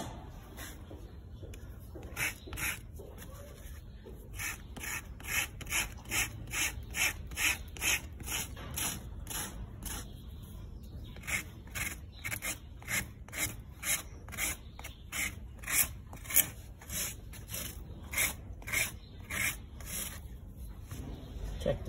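A hoof rasp files a horse's hoof during trimming in a long series of regular, rhythmic scraping strokes, close and moderately loud, with short pauses between bursts.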